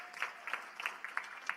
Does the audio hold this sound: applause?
yes